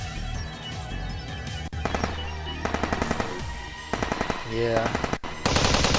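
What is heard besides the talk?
automatic weapons firing short bursts, from the video game Steins;Gate 0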